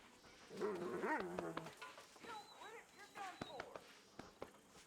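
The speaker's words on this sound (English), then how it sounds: "Cur dogs are cool." A cur dog in the video game Red Dead Redemption 2 makes short whimpering and whining noises with a few yips and soft barks, close and fairly quiet, with faint sounds around it.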